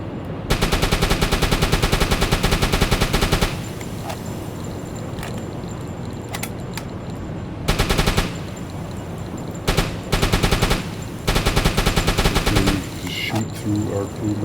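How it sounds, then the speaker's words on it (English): A U-boat deck gun firing high-explosive shells at a ship in the UBOAT video game, loud rapid bursts of gunfire in several long volleys separated by a steady engine and sea rumble, with a voice talking faintly underneath. "just shoot at the bridge section with HEs"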